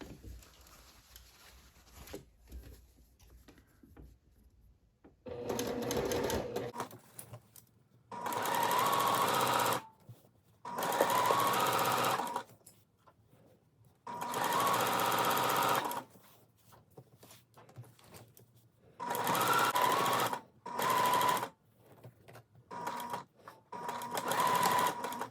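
A sewing machine stitches a rainbow seersucker dress in several loud, steady bursts of a few seconds each, with short quiet pauses between runs as the fabric is pivoted at the shoulder seams.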